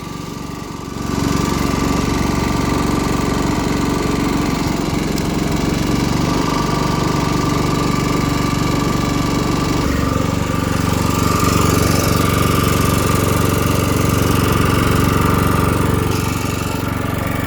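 A small engine idles while warming up, a loud, steady, rough mechanical drone with constant knocking that runs close by for the whole stretch, with no voices.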